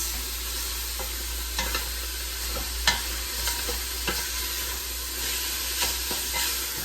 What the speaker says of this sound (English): I'm browning my hamburger in our pot.